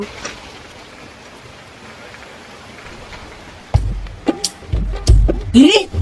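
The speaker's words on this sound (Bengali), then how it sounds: "বৃষ্টি পড়ছে" Rain falls as a steady, soft hiss for several seconds before louder, closer knocks and bumps break in over the wash of the downpour.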